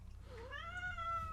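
A male cat meows once, a rising drawn-out call up close and clear, ending with a small rustle.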